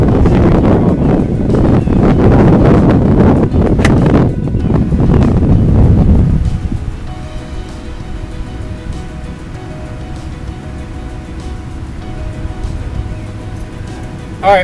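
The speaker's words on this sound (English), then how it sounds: "A little bit of wind against." Heavy wind buffeting the microphone on an open golf course, loud gusty rumble for about six seconds that then eases into a lighter breeze, with a person talking.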